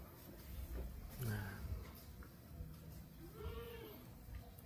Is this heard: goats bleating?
yes